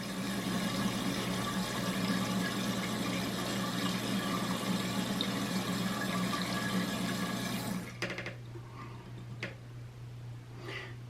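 A toilet tank refills with water after a flush valve repair, a steady hiss and rush of inflow from the fill valve that runs for about eight seconds, then cuts off to quieter trickles and clicks.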